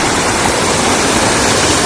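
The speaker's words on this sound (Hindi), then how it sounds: "ये देखिए ऊपर सोना सतनी गांव से ये गधेरा आ रहा है नीचे की तरफ" Swollen mountain stream, a gadhera coming down from a village above, roaring in flood after heavy rainfall; a steady, loud, broadband rush of water fills the whole moment with no voices.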